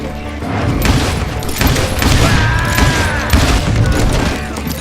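Dense, loud bursts of gunfire from many hired gunmen in the Western shooter Call of Juarez Gunslinger, overlapping shots and booms rolling on without pause.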